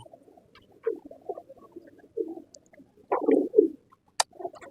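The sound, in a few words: pigeons cooing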